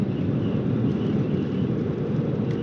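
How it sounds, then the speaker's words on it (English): Steady, loud wind roar outdoors in the Nevada desert buffeting the microphone, a continuous low rumble with no letup and no voices. "if you can hear, it is quite windy outside"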